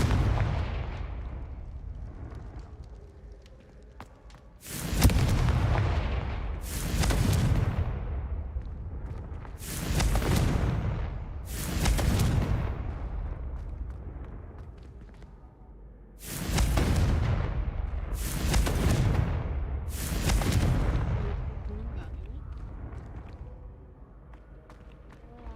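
Confringo fire-spell explosions in the game Hogwarts Legacy: about seven loud, booming blasts in two clusters, each a sharp crack with a rumbling tail, over low background ambience and no talk.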